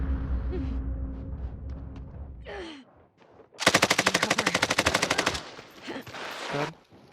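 Rapid automatic gunfire in a live-streamed shooter game, a loud sustained burst of evenly spaced shots lasting about a second and a half, with game noise and talk around it.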